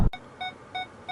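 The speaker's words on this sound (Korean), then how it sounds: "주차할 때 주차 센서 있죠, 후방 센서, 측면 센서, 이 소리도 동일합니다." Parking sensor chime in a 2021 Hyundai Grandeur Le Blanc 3.3 gasoline: three short, clean electronic beeps at a steady pace, heard close inside the cabin after a brief thump.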